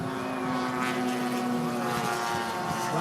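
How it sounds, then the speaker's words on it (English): Radio-controlled model P-47 and Corsair warplanes make a low pass at a model airplane show, a loud, steady droning propeller engine note that holds through the whole stretch, with no voices. "nice low pass, P-47 pulling up, Corsair down low"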